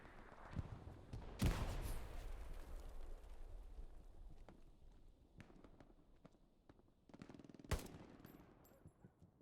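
Machine gun fire in the World War II shooter Hell Let Loose, with a loud close burst near the start and another near the end, separated by scattered distant shots and rumbling battlefield noise.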